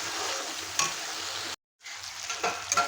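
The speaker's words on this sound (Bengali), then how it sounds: "এখন খুব ভালো করে মশলাটাকে আমার কষিয়ে নিতে হবে।" Spice paste with turmeric being sautéed in a pan for gandharaj chicken, a loud close sizzle with stirring scrapes, briefly cutting to silence midway before resuming.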